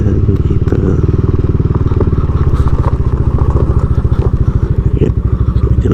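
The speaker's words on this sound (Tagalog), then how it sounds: "So papark lang natin yung ating motor dito sa labas." A motorcycle idles close by with a steady low putter as it is parked outside the Mangrove Forest Park in Alaminos, Pangasinan, with occasional clunks and scrapes as it is moved.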